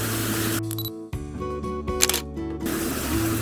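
A camera shutter fires for a slow-shutter exposure at ISO Low 1.0, shooting autumn leaves in a puddle with flowing water; a click opens the shutter, a brief hush follows, then mechanical clatter closes it, over steady background noise.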